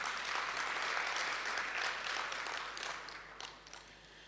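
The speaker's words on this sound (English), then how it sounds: "Can we give the Executive Mayor a beautiful round of applause?" Applause at a public event for an executive mayor, a fairly faint wash of many hands clapping that tapers off toward the end.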